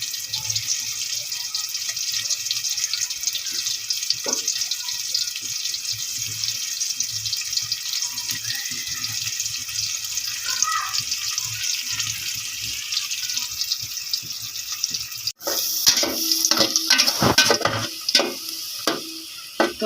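Onions fry in a hot pan, a steady even sizzle that runs on for a long stretch before turning into louder crackling and clattering near the end.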